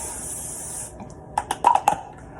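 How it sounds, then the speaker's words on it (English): Oil sheen hair spray gives a close, steady hiss for about a second, followed by a few soft clicks and taps. "Oil sheen spray."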